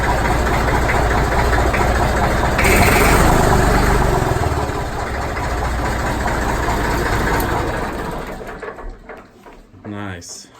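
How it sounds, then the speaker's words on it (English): A barn-find 1962 Massey Ferguson 35 tractor with a 37-horsepower Perkins engine runs at a steady, loud knocking idle. Voices talk over it, and the engine cuts out near the end. "Perkins engine. 37 horsepower."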